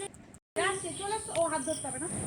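Village crickets at dusk give a constant shrill, buzzing drone that drops out for a moment and resumes, with faint voices murmuring underneath.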